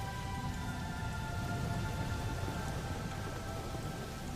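Steady rain falls in a continuous broadband hiss with soft patter and a faint low rumble, unbroken and even throughout, with no voices.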